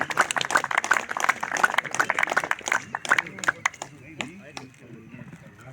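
Audience applause rises in dense, rapid clapping that carries through the first few seconds and then thins out into scattered claps while someone speaks over it.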